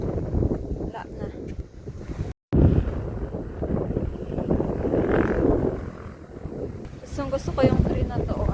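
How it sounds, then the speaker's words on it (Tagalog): Strong wind buffets the microphone outdoors on a walk, a loud rumbling gusting roar that rises and falls throughout, cut briefly by a short dropout, with a person talking faintly over it. "Tignan nyo naman, ang lakas ng hangin."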